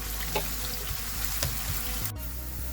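Chopped onions frying in hot oil for chicken korma, a dense continuous sizzle with a few faint clinks and a brief shift near the end; nobody speaks.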